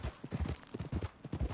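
Horse hooves clip-clop in a steady, even walking rhythm in a video game as a ridden horse moves along near a lake, close and fairly soft.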